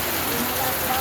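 Torrential rain during Typhoon Kristine roars in a constant, loud wash, an unbroken close hiss of heavy downpour.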